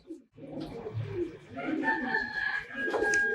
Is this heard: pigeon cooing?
yes